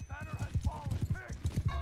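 Cavalry horses clip-clop in a rapid, steady hoof rhythm in a medieval battle video game, with a commentator talking over the hooves throughout.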